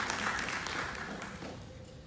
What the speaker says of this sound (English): give a big round of applause to the Canadian Pakistan Women's Society